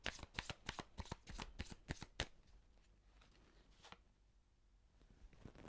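Tarot cards being shuffled and handled, a quick run of crisp riffling snaps for about two seconds, then quieter soft rustles and one light card slide near the end, close and alone.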